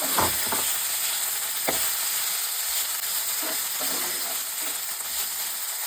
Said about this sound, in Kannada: ಅದನ್ನು ಅಷ್ಟೇ ತುಪ್ಪದಲ್ಲಿ ಫ್ರೈ ಮಾಡಿ.